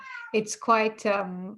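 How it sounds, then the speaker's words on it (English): A pet cat meows several times in quick succession, drawn-out tonal calls close to the microphone, mixed with a person speaking indoors. "sorry, excuse my cat"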